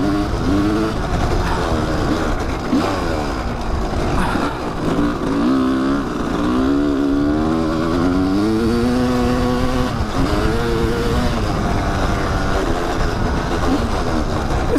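A Kawasaki dirt bike rides a sandy, washed-out riverbed trail at an OHV park, its engine droning steadily and close, with the pitch rising and falling as it revs through the ride.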